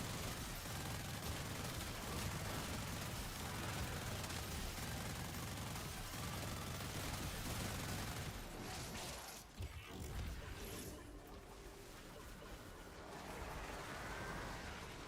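Burst-fire weapon shooting in a video game, heard as a dense, continuous clatter of rapid gunfire that stays loud for about eight seconds, then thins into scattered mechanical clicks and softer game noise.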